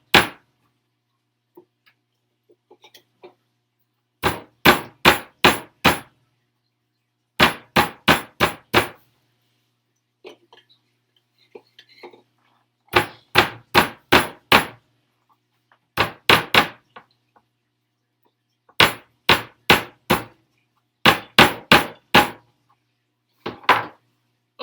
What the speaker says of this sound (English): we are done hammering for the moment